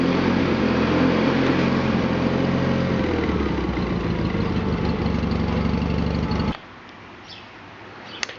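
A John Deere 318 garden tractor runs with its mower deck engaged, a loud steady engine drone with whirring blades that drops abruptly to a quieter idle near the end.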